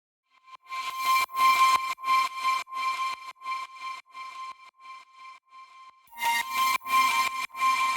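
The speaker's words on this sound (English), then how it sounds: "the flute sound gets resampled and brought back in on the second drop." A resampled, chopped flute sound from a remake of an electronic track comes in bursts, with stuttering rhythmic hits and a sustained tone in the middle. It is heard alone, with no drums.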